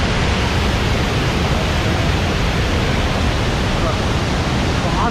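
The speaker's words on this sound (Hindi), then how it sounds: "वहाँ से वाटरफॉल आ रहा है।" A big waterfall in North Sikkim, between Mangan and Lachen, throws spray beneath a bridge. It makes a steady, dense roar of rushing water that fills the whole clip and stays constant and loud from start to end.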